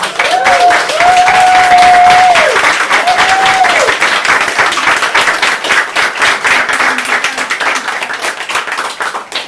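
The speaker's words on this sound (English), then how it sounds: "give first-time open mic spotters a second round of applause" Audience applause at a poetry open-mic night, a loud dense crowd clapping that holds steady and thins slightly toward the end, with a few whistles or cheers cutting through near the start.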